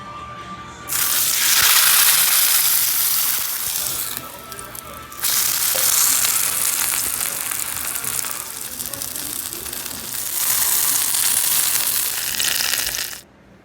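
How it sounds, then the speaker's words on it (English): Chopped chicken simmers in birria sauce in a pot, producing a loud, continuous bubbling hiss that swells and fades in three long stretches, with brief quieter gaps between. "I'm gonna let it sit and simmer for 30 more minutes."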